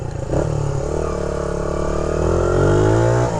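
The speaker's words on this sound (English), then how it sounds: "Real nice exhaust note on the stock downpipe." A 1979 Honda XR80R motorcycle on its stock downpipe runs with a close, buzzy exhaust note that climbs as the small engine revs up, loud and continuous with no voices.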